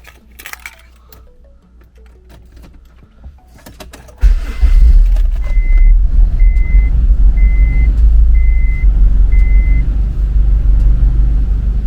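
A B-series Honda CR-V with solid engine mounts starts after a few clicks and rattles. It settles into a loud, steady idle with a deep rumble, and a faint repeating beep chimes over the engine.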